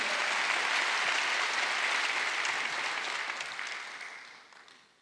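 A church congregation at a Wednesday worship service breaks into loud, sustained applause that holds steady, then gradually fades away near the end.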